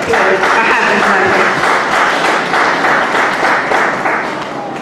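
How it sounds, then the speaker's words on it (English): Audience applause at a student report presentation, a dense, steady clapping crowd sustained throughout and tapering slightly toward the end. "Let's give Bettina a round of applause for having her."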